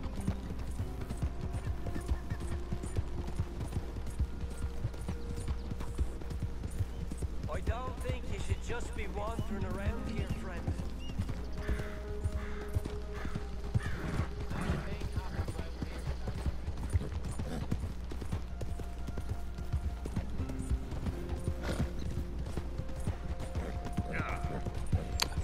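Steady clip-clop of horse hooves plodding along in the video game Red Dead Redemption 2, over a constant low hum, with faint mechanical clicks and a voice talking now and then.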